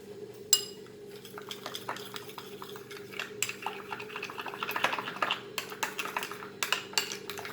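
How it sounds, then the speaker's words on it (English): Spoon clinking and scraping against a bowl while mustard oil is mixed into a sauce, steady light taps and clinks close by over a low background hum, no talking. "pinch of oil, of mustard oil, and mix this together"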